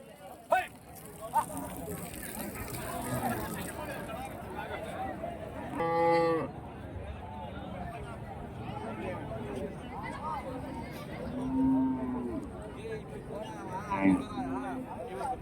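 Cattle at a busy livestock market moo several times, a long low call standing out mid-way and a shorter one later, over steady crowd chatter and nearby talk.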